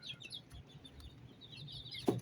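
Chickens cluck softly, a black Mongolian hen and white Leghorn chicks hatched in a homemade incubator, with short scattered calls over quiet background and one louder cluck near the end.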